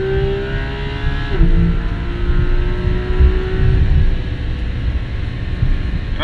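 Porsche GT3 RS with a 500 hp engine lapping a race circuit, its engine howling loud and close in a sustained high rev with a brief shift-like dip, steady and without pause.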